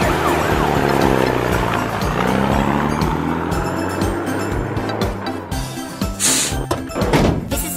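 A loud wailing siren from a red toy fire truck sweeps up and down close by, mixed with clunks and rattling handling noises as it continues.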